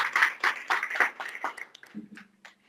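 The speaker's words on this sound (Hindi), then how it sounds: "जोरदार तालियां बजाएं." A small gathering claps in rhythmic, evenly spaced beats, then the clapping tapers off and a brief tone or voice sounds near the end.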